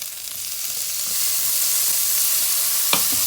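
Onion and tomato sizzle in a hot pan for ginisang repolyo sa giniling, a steady bright frying hiss with faint stirring scrapes and one sharp clink near the end.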